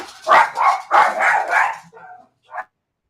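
Several dogs barking excitedly as someone arrives home, a run of loud close barks followed by a brief short yelp after a pause.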